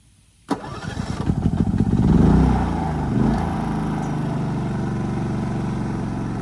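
A WEN DF400i dual fuel 4000-watt inverter generator starts abruptly and settles into a steady, smooth running hum on propane, close and loud, with no talking.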